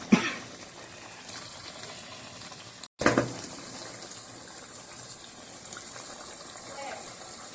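About 1.5 litres of water gushes and pours into a pot of Old Delhi nihari stew, a steady close splashing wash with a sharp start, a brief break, then continued pouring.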